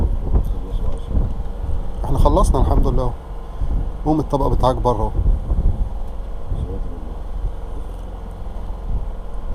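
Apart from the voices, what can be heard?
cold wind blowing outdoors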